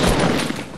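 Gunfire in the video game Fortnite, a dense, loud burst of rapid shots filling the whole short moment.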